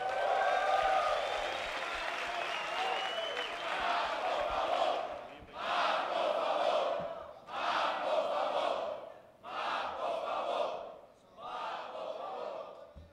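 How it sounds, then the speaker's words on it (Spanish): Crowd cheering and clapping to welcome Uncle Robert, heard as several rhythmic bursts of chanting and applause that rise and break off in repeated waves, moderately distant and echoing. "reciban con un fuerte aplauso al tío Robert"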